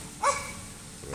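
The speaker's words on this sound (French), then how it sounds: "Voilà, et du coup, il y a un chien." A dog gives a single brief bark outdoors in a natural area of nettles and brambles, heard at some distance against faint background noise.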